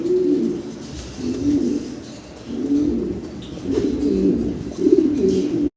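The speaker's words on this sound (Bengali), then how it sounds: "ভিডিও স্ক্রিনে আমরা দেখতেছি ভাইয়ের কাছে ব্ল্যাক কালারের এক জোড়া বোল্ডার সাইজের শৌখিন কবুতর" A pair of black, boulder-size fancy pigeons cooing, with several low, rolling coos repeating steadily and close by against a constant background hum.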